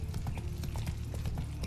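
A horse's hooves clip-clop at a steady trot while riding through a city in The Witcher 3, an even rhythm of close, moderately loud footfalls with no talking.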